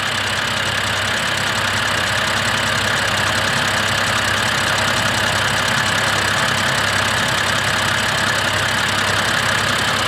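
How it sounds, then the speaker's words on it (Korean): A 2010 BMW F10 528i engine idles cold with a slightly uneven, lumpy beat, a steady close mechanical drone with a faint ticking valve noise on top, running alone without voices. "냉간 시에 약간의 불규칙적인 아이들이 있는데"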